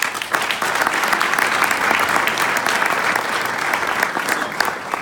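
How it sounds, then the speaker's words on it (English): Audience applause in a hall during an anniversary celebration, a dense steady wash of many hands clapping at full volume for the whole stretch, with no voices breaking through. "Let's give him a round of applause."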